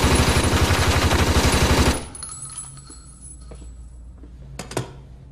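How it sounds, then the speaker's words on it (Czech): P90 submachine gun firing, a loud, rapid, steady automatic burst lasting about two seconds that stops abruptly, followed by faint clinks and a couple of sharp metallic knocks. "Tohle je P-90, je to lehká zbraň."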